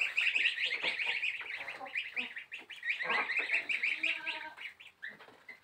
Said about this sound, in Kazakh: Қаздың балапандары сол.